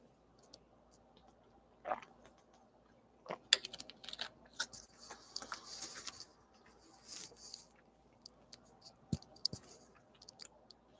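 Keys clatter on a computer keyboard in irregular bursts of quiet clicks with pauses between, close by and soft, with no speech.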